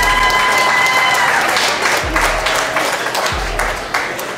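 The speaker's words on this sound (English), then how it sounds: "You guys can clap and stuff," An audience at a restaurant burger eating challenge breaks into loud, sustained applause and clapping that gradually tapers off, with voices mixed in.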